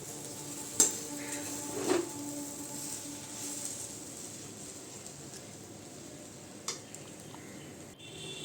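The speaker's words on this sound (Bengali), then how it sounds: "যে সুজিগুলো এখনও জল সঙ্গে মেশেনি সেই সুজিগুলোকে খুব ভালো করে এটাকে মিশিয়ে দিতে হবে" Semolina and water being stirred in a pan give a faint scraping swish, with a few soft clinks of a spoon against the pan and a light sizzle beneath.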